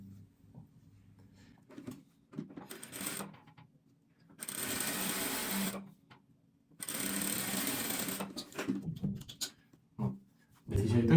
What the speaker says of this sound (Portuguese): E vou começar a costura bem aqui,